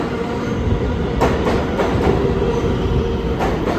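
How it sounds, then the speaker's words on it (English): A B train subway arrives, wheels rumbling and clattering loudly over the rails with a few sharp metallic clicks, close and continuous with no talk. "And then the next one is 211 B train."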